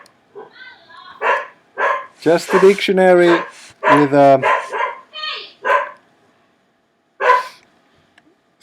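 A dog barks in a short cluster of yelps partway through, close by and mixed in under a person's steady talking.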